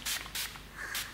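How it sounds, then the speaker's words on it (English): A facial mist spray bottle gives three short, airy pumps, each a crisp hiss, close and fairly loud in a quiet room. "I'm going to spray it now."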